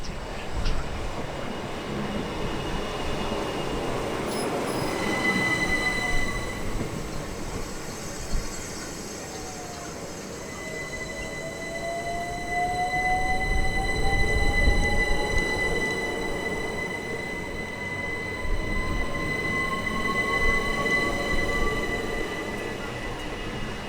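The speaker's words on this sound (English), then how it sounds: "The lines and associated train services are operated by South Eastern, with the majority of train sets used being part of the Class 375 design." A Southeastern Class 375 electric multiple unit at Tonbridge station, with a steady rumble of wheels on track, a sustained high tone and rising wheel squeal as the train moves through.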